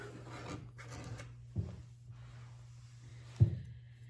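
Quilt fabric being trimmed along the fold, soft rasping cuts close by with two sharper strokes, over a steady low hum and no talk.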